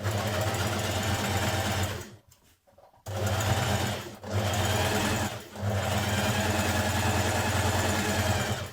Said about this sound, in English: around each neck edge, you also want to do that line of stay stitching again